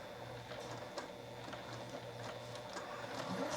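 A sewing machine set to a 3.5 stitch length runs steadily through patchwork fabric, a soft continuous whirring with faint regular ticking of the needle, fairly quiet and without talk.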